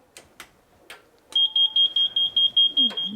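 A Cold War bunker's nuclear attack warning alarm, switched on at its main equipment, sounds as a loud steady series of shrill electronic beeps in rapid regular pulses, preceded by several sharp clicks from switches being pressed.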